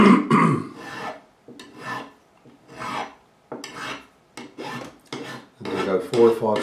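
A metal file rasps across the fret ends on a 2005 Fender Standard Stratocaster fingerboard during a refret, removing burrs in close, repeated back-and-forth strokes with short pauses between them.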